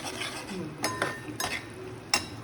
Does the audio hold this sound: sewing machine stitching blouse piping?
no